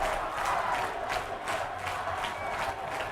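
A Linn-Mar high school football crowd chanting rhythmically in the stands at a game against Ottumwa, a roar with regular pulsing beats of the chant, fairly distant and steady.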